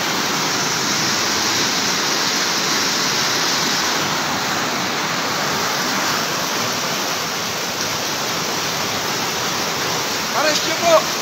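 Floodwater rushes through Bonbon, Libon, Albay in the Bicol Region with a loud, unbroken roar like a torrent, close and constant, with a couple of faint knocks near the end.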